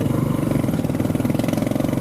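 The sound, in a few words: motorcycle passing by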